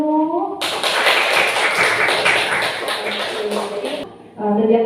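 A classroom full of students claps together in a burst of dense, steady applause lasting several seconds before cutting off, with a teacher's voice briefly before and after.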